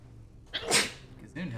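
A single sharp sneeze bursts out, followed by a brief vocal sound.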